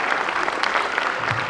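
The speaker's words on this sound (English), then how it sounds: "Let's clap." Dense, steady audience applause in a university hall at a cultural showcase, greeting the Vice-Chancellor, many hands clapping together with no voices.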